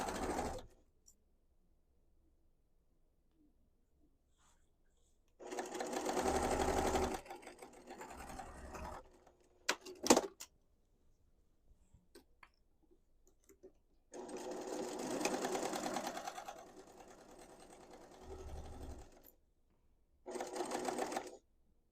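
A sewing machine stitches a 1/2 inch seam in fabric for a storage cube. It runs in three close, steady whirring bursts of a few seconds each, with quiet handling noises and short pauses between them.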